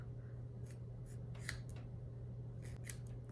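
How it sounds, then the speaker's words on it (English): An X-Acto hobby knife scores along a printed strip on a sublimation pen wrap, a few faint short scratchy strokes over a steady low hum, close and quiet, no talk. "We're gonna use this X-Acto knife tool, and I'm gonna cut along the strip or the dotted line."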